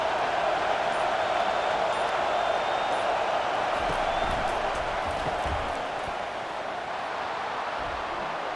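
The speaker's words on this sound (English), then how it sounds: "Decibels rising as the crowd gets behind this defense on 3rd down." Stadium crowd noise in the college football video game College Football 25, a broad sustained roar from a large crowd that stays steady and eases slightly toward the end, with no clear speech.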